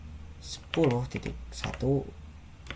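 Computer keyboard keys tapped to enter an IP address during a network gateway setup, a quick run of close, crisp clicks mixed with a person talking.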